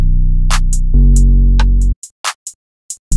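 A deep, sustained 808 bass pattern from a Yeet drum kit, booming low notes that shift pitch once, followed by a few sharp hi-hat-like ticks after the bass cuts off.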